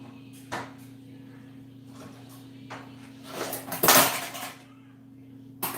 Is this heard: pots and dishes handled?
yes